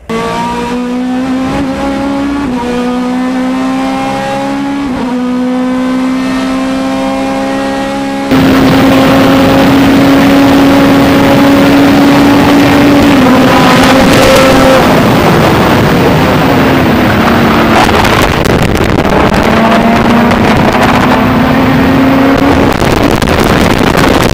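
A BMW Z4 GT race car of around 440 horsepower laps Road America, its engine howling loudly as it climbs through gears with sharp shifts, first from a distance and then much closer and louder as it blasts past.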